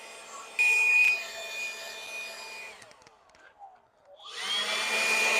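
A blower clearing small rocks out of asphalt driveway cracks gives a steady loud whooshing roar that swells, dips and fades briefly, then surges back up again near the end, close and continuous with no speech.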